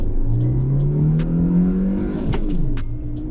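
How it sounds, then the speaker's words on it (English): A Maruti Suzuki Jimny accelerating hard in two-wheel-drive high range, its engine note climbing steadily in pitch before a brief dip at a gear change, loud and close with no talking. "So now let's do a quick acceleration test in 2 high."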